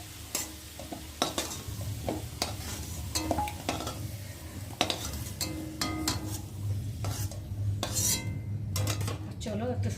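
Potatoes shallow-fried in a little oil are lifted out of the pan with a utensil, bringing sharp metallic scrapes and clinks over a continuous soft sizzle, close and fairly loud.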